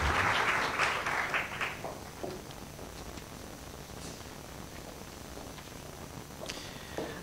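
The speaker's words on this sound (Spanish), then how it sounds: "a quienes les damos un gran aplauso" Audience applause honours mediators at a World Intellectual Property Day event in Paraguay, loudest at the start and then thinning into scattered faint clapping that fades under room noise.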